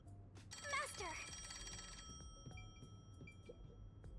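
A telephone rings in the Rain Code+ video game with a bright, trilling electronic ring that starts loud and then fades into shorter, fainter repeated tones over soft background game sounds.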